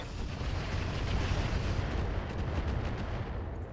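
Heavy mech weapons firing together in the RogueTech BattleTech game, a dense continuous roar of blasts and booms, loud and close, with no voices.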